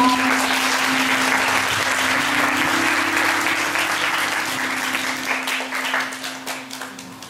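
A congregation at a church retreat morning service applauds together, dense sustained clapping at steady loudness that thins and tapers toward the end, with a low steady hum underneath.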